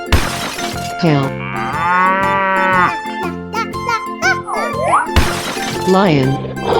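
Cartoon cow in a 3D animal sliding game, mooing loudly with long drawn-out lowing calls in a sliding pitch, mixed with bright game music and effects.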